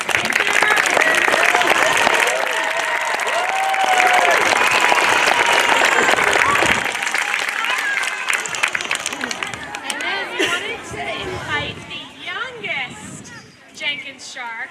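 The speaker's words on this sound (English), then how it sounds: "can everyone give a big round of applause for Mrs. Tickner?" Big applause and cheering for retiring teacher Mrs. Tickner at an elementary school playground ribbon-cutting ceremony, loud sustained crowd clapping that gives way to children's chatter and voices.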